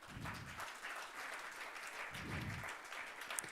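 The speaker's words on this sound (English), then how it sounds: "Please give them a huge round of applause," Audience applause at a corporate show, a broad wash of clapping that holds steady for several seconds, with low rumbling bursts mixed in and no one talking over it.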